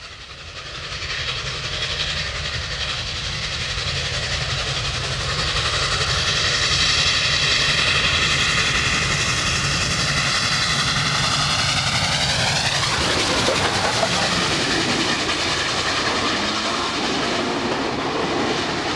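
Union Pacific 844 steam locomotive hauling a freight train rumbles past continuously and loudly, its heavy roar swelling then shifting pitch as it passes close by, with no talking.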